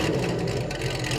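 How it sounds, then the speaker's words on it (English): A 2017 Camaro SS 1LE with an LT4 engine swap, long tube headers and an open-valve Corsa MPP exhaust, a loud close rumbling roar held steady for a brief moment. "I have a Corsa MPP exhaust on this car. Right now it's open"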